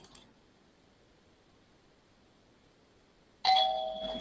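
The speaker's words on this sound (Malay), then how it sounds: "bila kita masuk dia akan bunyi loceng" Short electronic bell chime as someone enters an online classroom, ringing clearly after near silence with a brief click at the start.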